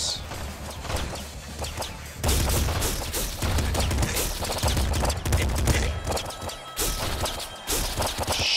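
Rapid gunfire bursts from the top-down shooter video game Nuclear Throne, loud dense volleys of shots that run continuously through the whole stretch with crashing impacts and no talking.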